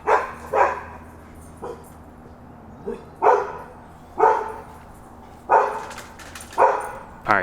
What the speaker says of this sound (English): neighbors' dogs obviously don't want me filming near their side of the fence